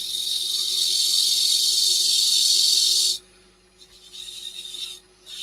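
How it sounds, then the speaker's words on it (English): A workpiece spinning on a wood lathe is sanded with a loud, steady, close abrasive hiss over a low motor hum, cutting off suddenly and then resuming in shorter bursts. "Quickly get that sanded."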